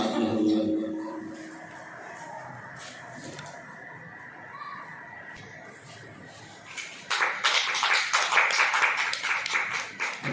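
Studio audience on a Christian television prayer programme breaking into applause to welcome a guest, a dense burst of clapping that starts partway through after a quieter stretch with faint talk.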